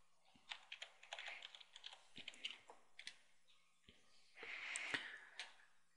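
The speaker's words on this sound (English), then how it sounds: "So key in your username and password you selected." Computer keyboard typing while entering a username and password at a help desk login, brisk irregular keystroke bursts close to the mic with brief pauses between runs.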